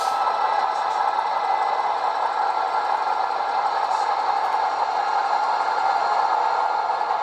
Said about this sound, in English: There's F4 dynamic brakes.